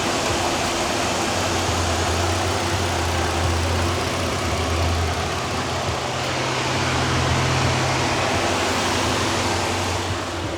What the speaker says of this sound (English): Engine sounds great. Nice and quiet, not too loud, no weird sounds, just the sounds of the belts going.